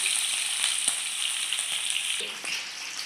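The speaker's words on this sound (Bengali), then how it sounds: "হালকা করে ভেজে নেব, বেশি ভাজবো না," Hilsa fish is turned and lightly fried in oil at home, making a continuous bright sizzle with a few faint taps of the utensil, heard alone without any talking.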